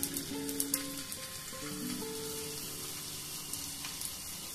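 French fries sizzle quietly in hot oil on a stove, a soft steady crackle with a few sharper pops near the start, faint tonal hums and a low background drone underneath.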